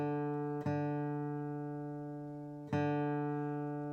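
Two plucked guitar strings ring out during tuning with an electronic tuner, each a clear sustained note with a sharp attack that decays slowly, close and alone.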